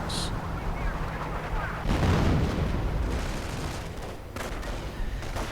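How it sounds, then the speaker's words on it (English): Artillery shells boom and rumble in a Company of Heroes battle, with dense low-end blasts and a busy wash of combat noise. A commentator talks over the action. "More artillery blasting in towards Sandland's position"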